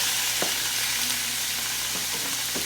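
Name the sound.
chicken frying in hot vegetable oil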